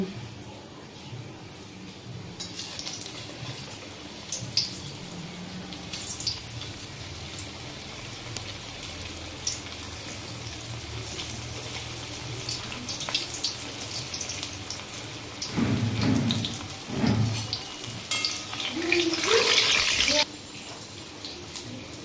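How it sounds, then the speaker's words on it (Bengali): Snacks deep-frying in hot white oil on a gas stove make a continuous, fairly soft sizzle and hiss, with a few louder splattering bursts and low clattering toward the end. "এবার আমরা এগুলোকে সাদা তেল দিয়ে ভেজে নেব।"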